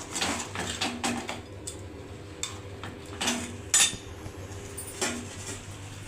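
Roasted chicken is stirred in a pan for butter chicken masala, with a utensil scraping and clinking against the metal in irregular, close taps over a quiet background hum.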